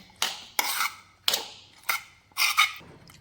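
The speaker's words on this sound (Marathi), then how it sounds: "आपलं पेरी पेरी सॉस आणि हे चांगल्या प्रकारे मिक्स करून घ्यायचं" A spoon mixing peri peri sauce with mayonnaise in a bowl, giving five sharp clinks and scrapes against the dish at uneven intervals, close and clear with no talk.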